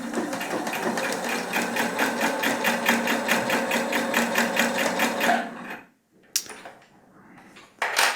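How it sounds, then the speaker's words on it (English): A Husqvarna Topaz 25 sewing machine stitching a bag runs fast with a dense, steady mechanical chatter, then stops abruptly, followed by a few faint clicks and handling knocks. "the noise sewing machines make while working"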